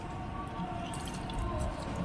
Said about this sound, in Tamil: ஒரு எலுமிச்சம்பழம் புளிஞ்சுக்கிறோம்